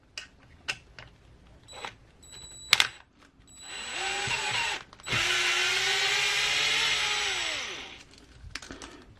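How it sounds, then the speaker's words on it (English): A power drill-driver backs out four screws holding the stock battery tray on an Element Enduro RC crawler. A few sharp clicks and taps come first, then two sustained whirring runs, close and fairly loud, with no talk. "We'll start by removing the 4 screws that hold the battery tray in."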